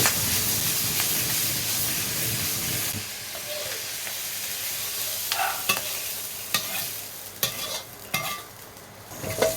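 Stir-frying in a home kitchen pan with very little oil: a steady sizzle with repeated close scraping strokes of a utensil, growing more clattery and percussive toward the end.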